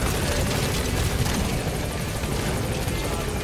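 A helicopter in Metal Gear Solid 5: The Phantom Pain thrums with steady, loud rotor chop and engine roar, a dense continuous drone throughout with no talking.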